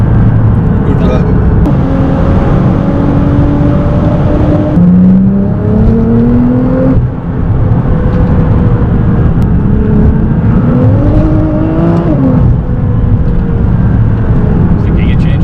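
A 680bhp Nissan GT-R R35 accelerates hard, its engine note climbing in steady sweeps broken by quick gear changes, heard from inside the car beneath people talking.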